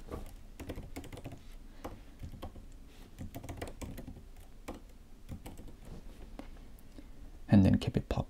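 A repository name is typed on a computer keyboard: a run of light, irregular key clicks, close and moderately quiet, with a louder cluster of taps near the end and a faint voice in places.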